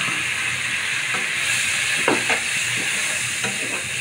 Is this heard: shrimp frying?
yes